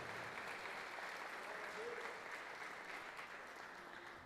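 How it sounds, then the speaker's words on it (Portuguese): A church congregation applauds before a pastor's sermon, with a steady wash of many hands clapping that fills the whole stretch at an even, moderate level in a large room. "Quem está comigo aqui, pode dar um aplauso, que a gente vai começar a pregar?"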